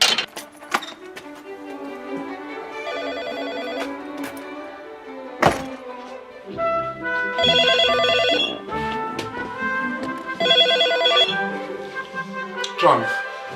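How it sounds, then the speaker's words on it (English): A telephone rings in several spaced bursts of bright, bell-like tones, with thumps and other sounds between the rings. "Professor Nick Humphrey gets a phone call from a colleague."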